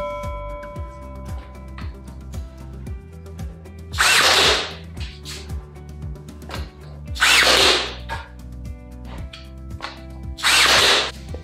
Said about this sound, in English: So I'm just doing three nails, brad nails.